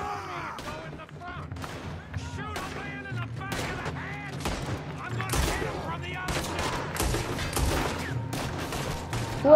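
Gunfire in Red Dead Redemption 2 during a shootout in the town of Rhodes: repeated close sharp shots in irregular bursts with ringing echoes, continuing for several seconds, a voice occasionally speaking between them.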